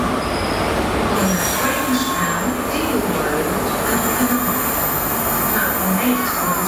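Onboard a GWR high-speed train running on rails toward Carmarthen, a loud, continuous rumble of wheels on track mixes with faint squeals and rhythmic clatter, while a voice talks underneath.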